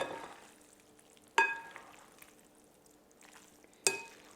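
Spaetzle dumplings being tossed with olive oil in a bowl, soft wet stirring with two sharp clinks of a utensil against the dish.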